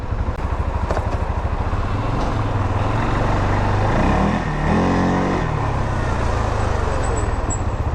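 A CFMoto CF 625 ATV engine running close and loud, its throttle blipped so the revs climb and fall over a continuous rough idle.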